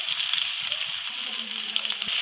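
Sliced onion hits hot oil, left from frying pabda fish and tempered with nigella seeds, and sizzles steadily with a close, bright crackle while being stirred.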